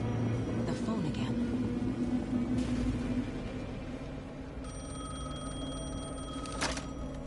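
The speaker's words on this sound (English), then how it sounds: "The phone again." A telephone rings in the video game Alan Wake II, its repeated electronic trill coming in bursts over a low ambient rumble and a voice in the background.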